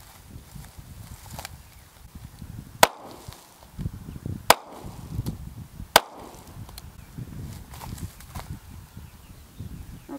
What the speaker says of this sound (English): gonna fire those first three rounds and we're gonna test the average sound level of those three rounds